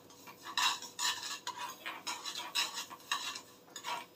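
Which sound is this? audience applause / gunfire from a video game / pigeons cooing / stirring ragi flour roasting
stirring ragi flour roasting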